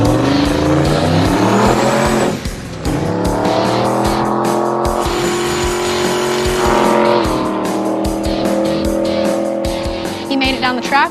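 Hot rod car launching and accelerating down a drag strip, a loud roaring engine with rising revs, a tire squeal and brief gear-change dips, heard close alongside other vehicle noise.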